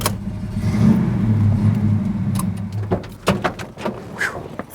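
A 1971 GMC Sprint SP with a 454 V8 rumbles loudly and close as it hops up into a driveway, the engine note strong and then easing off while lighter knocks and clunks follow.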